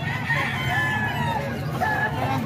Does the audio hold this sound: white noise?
no